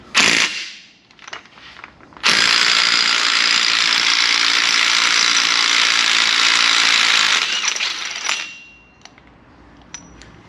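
Socket wrench ratcheting a 36mm socket on the axle nut of a 2018 Jeep Wrangler, a loud, steady run of rapid clicking lasting about six seconds, with a few brief clicks and rattles before and after.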